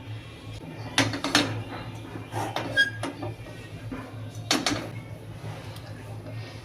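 A kadai wok set down on a gas stove in a home kitchen before frying turmeric-and-salt marinated fish: two clanking metal knocks a few seconds apart over a low hum, with faint scraping between them.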